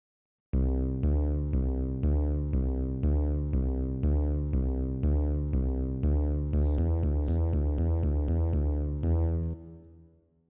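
A Strudel arrangement plays a bass line with drums, including a LinnDrum sound: a steady, evenly spaced repeating pattern, loud and close with no talk, ending in a fade as the notes ring out.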